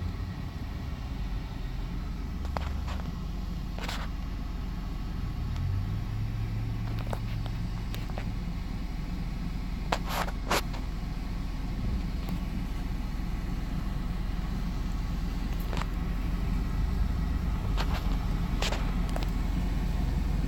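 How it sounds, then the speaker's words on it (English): Steady low road rumble of a car driving through traffic, with a continuous engine and tire drone and a few faint brief clicks and taps over it, no talk. "I gotta work my way through traffic here."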